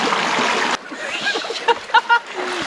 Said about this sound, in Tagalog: umagos yung tubig na.